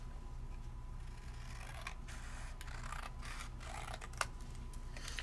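Scissors snip paper by hand to straighten a cut, giving a few faint, sparse crisp clicks and slices over a quiet, steady room hum, with no voices.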